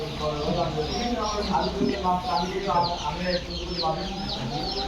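Many tiger chicken chicks peep continuously in a dense, overlapping chorus as they move about and eat, with a steady background hum throughout.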